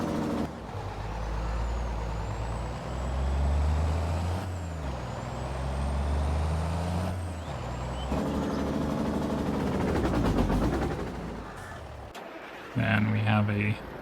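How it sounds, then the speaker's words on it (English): A Cummins N14 diesel in a Volvo truck runs with a steady low rumble, close and loud, with some air-brake-like hiss and a brief pause before it resumes. "this was the N14 we got in it, which you can hear"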